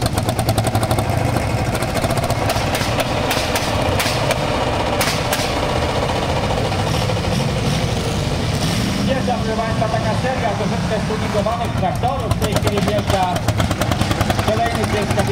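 Vintage John Deere Continental tractor driving past at a 2022 tractor show in Wilkowice, its engine a steady, loud rumble that lasts throughout, with a commentator talking over it.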